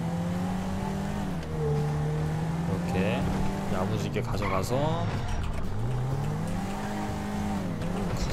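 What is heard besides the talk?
stolen car driving in GTA 5 Online video game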